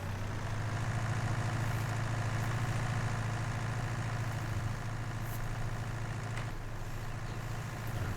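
A steady, low engine drone from a vehicle driving in Farming Simulator 19, holding an even, continuous rumble throughout with no talk over it.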